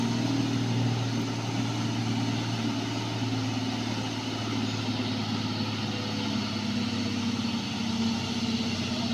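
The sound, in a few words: heavily loaded trucks passing, engines running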